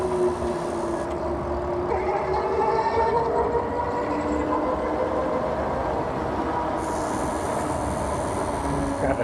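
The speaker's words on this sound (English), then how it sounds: "Got a train." A train rumbles past close by, a continuous heavy roar with rattling cars and a brief higher horn-like tone near the end.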